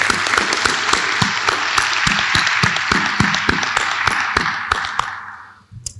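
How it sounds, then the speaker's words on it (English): An audience at a December oath of office ceremony claps in recognition of a former First Select Woman, steady applause with sharp individual hand claps standing out, fading away at the end. "Give her a round of applause, please."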